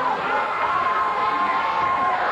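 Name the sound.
wrestling crowd cheering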